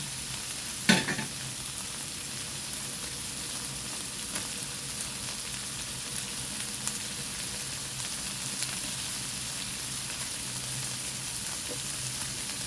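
Onion frying in a pan for pancit bihon, a steady soft sizzle running throughout with a brief louder clatter near the start and faint scattered crackles.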